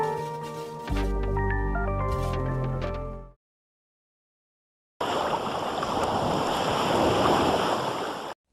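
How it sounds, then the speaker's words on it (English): Strong wind and big ocean waves at a sailing spot roar as a steady, loud broadband wash for about three seconds, following a stretch of music and a short silence. "it's nice wind and big waves at the moment,"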